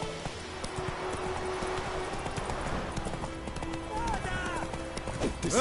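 Roach the horse gallops in The Witcher 3 video game, a steady clip-clop of hooves running throughout with a brief whinny, while someone talks over it.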